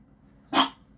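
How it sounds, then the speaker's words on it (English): A single short dog bark rings out at close range, loud and sharp against a quiet room, heard indoors where tortoises are also kept. "why are you barking at me?"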